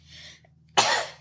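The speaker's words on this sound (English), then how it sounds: "gotta go through and cut out all my coughs" A single sharp cough bursts out loud and close after a stretch of quiet breathy noise, with a low steady hum running underneath throughout.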